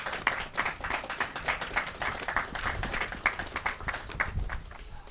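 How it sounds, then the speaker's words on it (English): Applause from an outdoor gathering at a historical district plaque unveiling, a modest group clapping in uneven, distinct claps that stay moderately loud throughout. "So can we just give a round of applause for everybody?"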